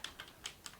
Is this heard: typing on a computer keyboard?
yes